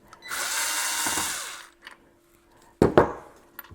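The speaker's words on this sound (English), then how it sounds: "So let me continue removing these screws, taking this apart." A power screwdriver or drill whirs steadily for about a second and a half while screws are removed from an AR XA turntable during disassembly, followed by a pause and two short, sharp knocks near the end.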